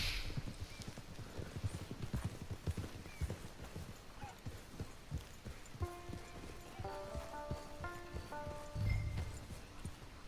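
Horse hooves clip-clop in a steady rhythm in the video game Red Dead Redemption 2, with short musical chimes partway through and a brief low rumble near the end.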